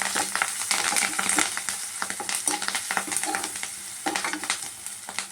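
Tomatoes frying in a pan with turmeric and curry leaves give a steady, close sizzle, with stirring scrapes and soft clinks throughout and no talking.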